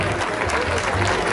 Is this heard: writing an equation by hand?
no